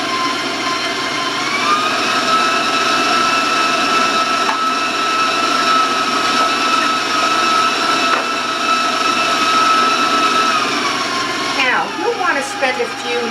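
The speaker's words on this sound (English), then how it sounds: "I'm going to turn my mixer up higher just to move it along." A stand mixer beats eggs into cake batter with a loud, steady whirring hum that holds for several seconds and then shifts pitch as the speed changes, while a voice talks over it.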